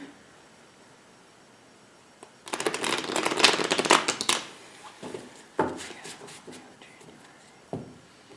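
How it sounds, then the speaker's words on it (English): Tarot cards being shuffled by hand, with a dense two-second burst of riffling and flapping, then quieter scattered taps and slides of the deck. "I started shuffling your cards already, but we're just going to go ahead and shuffle"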